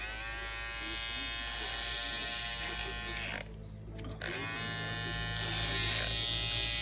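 An Andis GTX-EXO hair trimmer with a slight rattle runs with a steady close electric buzz, briefly dipping mid-way before resuming at full strength.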